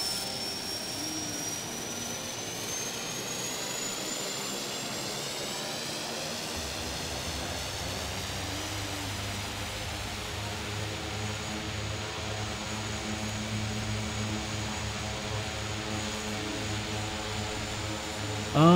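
A simulated airliner landing on runway 21 in Hawaii in the Infinite Flight game, a steady jet engine whine and hum that grows slightly fuller partway through, with a sudden thump right at the end.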